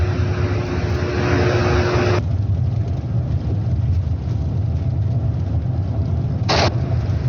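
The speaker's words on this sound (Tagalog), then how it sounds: "magpadagan ang van na ako ang nasakyan" A van travels along a quiet provincial road through wooded countryside in Zamboanga del Sur, its engine and tire roar forming a steady, loud rumble that continues throughout, with a brief higher hiss near the end.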